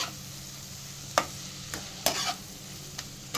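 Spring onions frying in a pan with salt, turmeric and chili, a quiet low sizzle punctuated by a few distinct scraping stirs of a spatula, close and without talk.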